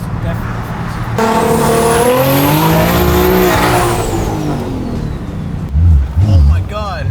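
A twin-turbo Audi R8 revs hard and accelerates in a race, engine pitch climbing and holding loud and close, then backing off, with voices talking over it and a brief burst near the end.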